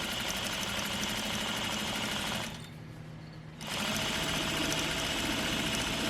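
A sewing machine stitches fabric for pajamas with a fast, steady mechanical whir, pausing briefly midway before resuming at the same close, even pace.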